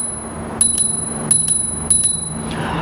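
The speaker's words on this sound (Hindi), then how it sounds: "ये है घंटी।" A bell on an electric bicycle in Australia rings in three short pairs of bright, clear dings over a low background hum, with no talking.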